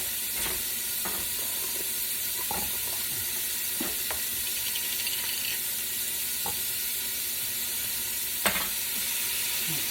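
Chopped garlic sizzles in a soup pot for rustic potato and sausage soup, a constant hiss heard close up, with occasional clinks and scrapes of a spoon or pot and one louder knock near the end.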